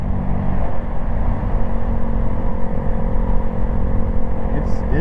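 A 125 cc sport touring motorcycle with a 5-speed sequential gearbox, its engine a loud, steady droning hum at constant speed, heard close up with wind rumble.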